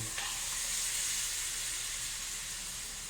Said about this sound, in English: And we take our salsa and broth and dump it in